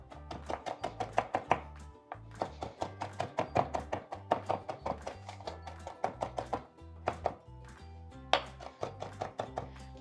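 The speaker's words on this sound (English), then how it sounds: "Next step, we're going to chop some parsley." Knife chopping fresh parsley on a cutting board, rapid bursts of crisp, close taps in uneven runs with short pauses between them, no talking.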